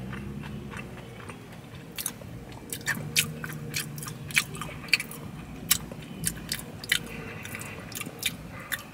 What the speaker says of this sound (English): That first bite was really delicious.